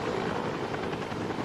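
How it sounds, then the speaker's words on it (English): Research Eagle rescue helicopter flying, a steady loud rotor and engine roar, continuous and unbroken with no voices. "Holly was taken by Research Eagle helicopter to Lutheran Medical Center"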